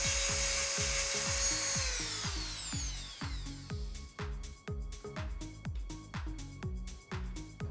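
Slots cut into an aircraft rib are sanded by hand with quick, repeated rubbing strokes, steady and close, over a background whine that fades early on.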